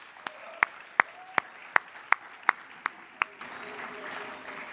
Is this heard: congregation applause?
yes